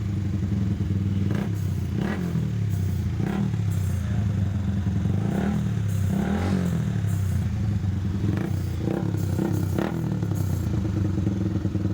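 A Honda Repsol 150 fi motorcycle engine runs steadily up close after a TPS replacement, with repeated rev blips and mechanical clatter over a continuous idle drone.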